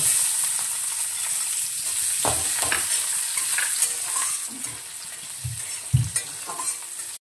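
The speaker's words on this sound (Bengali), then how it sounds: "এরপর আমি পেঁয়াজ কুচিগুলো এর মধ্যে ঢেলে দেবো।" Chopped onions frying in a pan over five-spice and chillies, a constant high sizzle with irregular spatula scrapes and clunks as they are stirred, the hiss easing slightly toward the end.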